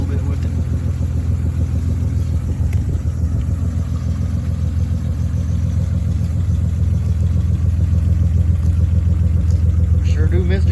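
An engine idling steadily after a cold start at 37F, a loud low continuous rumble with an even, unchanging pulse close to the microphone, with speech likely heard over it.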